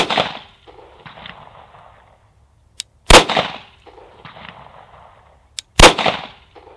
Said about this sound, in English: unsuppressed, out of our Glock 19.